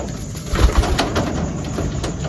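Racing pigeons cooing close by, a short burst of low soft coos over a steady outdoor background, no talk.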